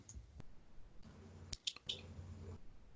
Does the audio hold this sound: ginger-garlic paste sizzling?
no